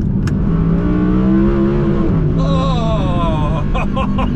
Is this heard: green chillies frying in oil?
no